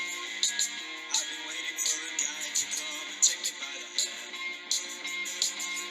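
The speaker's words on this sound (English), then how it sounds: "So first bass and guitar." Bass and guitar opening of a song, a clangorous, ringing riff with sharp rhythmic accents recurring every second or so, moderately loud and alone without voices.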